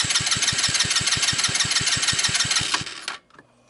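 A 150cc X-treme ATV engine cranks over with the carburetor removed during a dry compression test, giving a fast, even chugging pulse for about three seconds, close and loud, then it stops abruptly.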